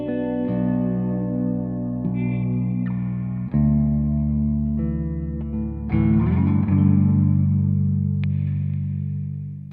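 A clean electric guitar tone on a baritone or seven-string guitar with a humbucker, run through delay and reverb, rings out in sustained low chords with a few struck changes and echoing tails, alone and fairly loud.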